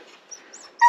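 A hunting dog whimpers during a moose hunt in the Finnish forest, a few faint, high thin whines and yips, close and alone, ending in a louder brief cry.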